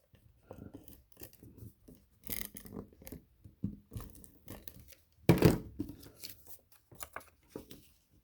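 Scissors cutting card stock into strips for a fold-back pop-up card, with repeated close snips and rustling paper, one louder cut midway, no talk.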